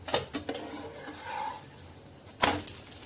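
Sharp spatula clatters against a pan as an egg-topped wheat flour breakfast is flipped, two quick knocks then a louder one later over a soft sizzle.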